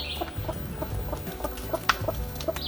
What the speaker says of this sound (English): Look at that big grub. It's like a beetle grub. Big fat one. What's that? That's gonna be a chicken.